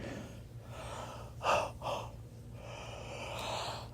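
A person yawns alone in a quiet room: one long drawn breath swelling and then releasing, followed by a shorter second exhale, fairly close.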